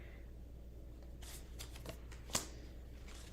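Tarot cards are shuffled close by in quick riffling bursts, with a few crisp snaps and slaps of the deck between softer stretches.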